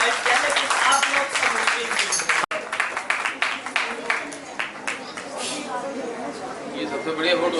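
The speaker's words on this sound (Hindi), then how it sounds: "इनके लिए जोरदार तालियां" Audience at a Jain temple cultural programme in Shaktinagar claps loudly and steadily for a guest, dense applause running throughout with voices and chatter mixed in.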